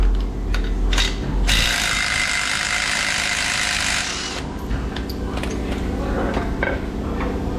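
A ratchet working loose a fastener from a Mercedes GLC 300 sway bar link, with rapid close clicking pawl sounds over a steady workshop hum, heaviest in one sustained run near the start.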